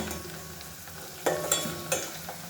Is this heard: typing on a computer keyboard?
no